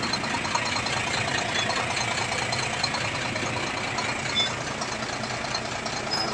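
A trucking-project truck with an Isuzu 6HK engine idles close by, a steady, continuous engine rumble with a faint knocking texture and no speech.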